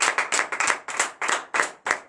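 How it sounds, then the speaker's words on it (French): A church congregation at morning prayer claps in acclamation, loud rhythmic bursts of hands striking together in groups, with short pauses between each cluster of claps. "Donnez l'acclamation à Jésus."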